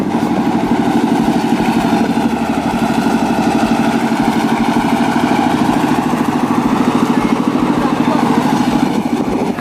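Motorcycle engines idle steadily at a river ferry crossing as bikes wait to board a boat, a loud continuous rumbling drone close by, with faint voices in the background.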